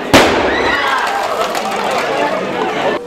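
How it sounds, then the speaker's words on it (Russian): A liquid nitrogen bottle explodes inside a barrel with a sharp, loud blast, followed by a sustained rushing hiss and crackle with voices murmuring underneath, ending abruptly. "Бутылку распирает и происходит взрыв."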